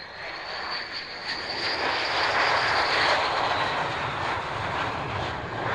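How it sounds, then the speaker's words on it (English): A flight-simulator aircraft engine drones steadily and loudly through the whole stretch, swelling slightly in the middle in a smooth continuous roar with no talk. "flying this aircraft through the Mach loop, you know, virtual thing"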